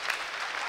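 Spectators at a K1 kickboxing bout in the Manej Sports Arena in Chisinau, Moldova, break into brief, dense applause, a steady wash of clapping from a large indoor crowd.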